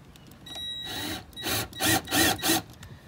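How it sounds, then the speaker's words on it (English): A small drill bit boring shallow pilot spots into a bass boat's deck during a Power Pole install, heard as several short bursts of whirring grind, close and fairly loud, with brief pauses between each pass. "I'm gonna take this little drill bit and I'm gonna drill some pilot holes right here where I want to go in."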